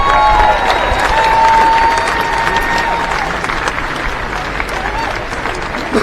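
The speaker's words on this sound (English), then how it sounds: "Please give her a round of applause as she comes up to speak to us." An audience at a march for hostages claps in a dense, sustained burst of applause that gradually tapers, with scattered voices mixed in.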